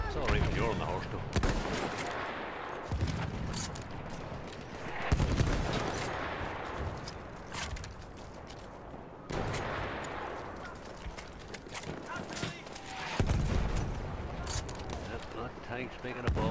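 Gunfire and explosions in the Battlefield video game, with dense bursts of shooting and heavy booms that recur throughout, loud and close, mixed with players talking.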